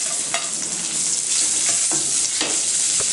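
Deep-fried peanuts and ivy gourd pieces are tossed in a hot pan with curry leaves, giving a loud, continuous sizzle broken by several scraping stirs of the spatula, close and without talk.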